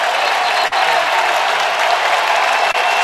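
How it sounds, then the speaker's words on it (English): Basketball arena crowd at a Michigan versus Michigan State men's college game roaring and applauding steadily, a loud dense wall of cheering and clapping with brief dips, with no talk over it. "The Spartan crowd is on their feet."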